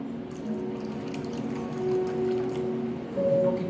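Liquid pours steadily into a glass jar, a close, continuous trickle whose tone rises gradually in pitch as the jar fills.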